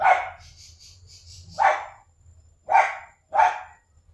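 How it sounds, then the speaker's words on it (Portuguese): Several dogs bark for their dinner near a home ceramics workshop: four loud, close barks in an uneven rhythm, with a softer high whine between the first two and a faint low rumble underneath. "tem barulho de cachorro, é porque já tá na hora da janta deles"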